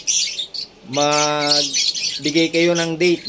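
African lovebirds near a nest box give loud, close squawking chirps in several bursts, with someone speaking briefly between the calls.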